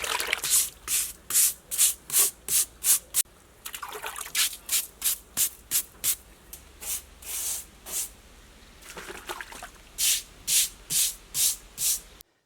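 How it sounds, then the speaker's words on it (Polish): Foundation stones being scrubbed clean by hand, a rhythmic series of rasping brush strokes in quick bursts of several strokes with short pauses, close and fairly loud, no one talking. "czyszczę kamienie. Teraz robi się to w najprostszy sposób, łatwo, przyjemnie"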